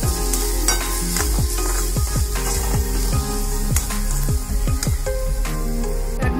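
Masala being stirred into pav bhaji in a pan, loud continuous sizzling with a rapid rhythm of spatula scrapes and knocks against the metal, close up and without any voices.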